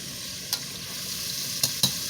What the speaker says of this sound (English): I put about 6 teaspoons of butter in the pan where I cook the shrimp